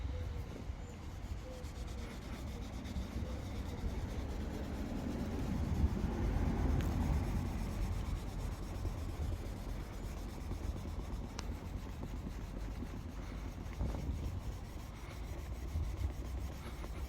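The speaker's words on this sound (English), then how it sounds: "we're going to see if we can just scrub that off with a microfiber towel" Steady rubbing of a microfiber towel with compound over the paint of an Abarth 500, a continuous close scrubbing hiss with slow back-and-forth swells and no talking.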